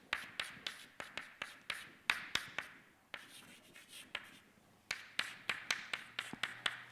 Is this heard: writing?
yes